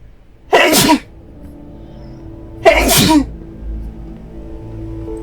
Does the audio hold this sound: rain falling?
no